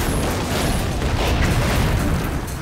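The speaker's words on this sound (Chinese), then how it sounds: "地底传来了响声，卷毛居然真的把水源给炸了出来" Grenades, a whole crate of them, detonating deep underground in a crime drama set in Mexico, blasting loose a water source: a dense, continuous roaring rumble of booms that stays loud and heavy throughout, with no distinct gaps.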